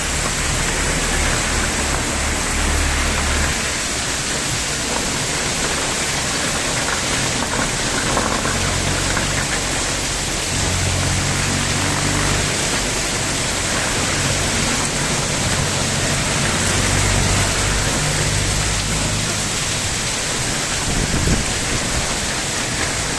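Heavy rain pours down in a dense, continuous hiss, loud and unbroken throughout, with faint low thuds beneath and no voices.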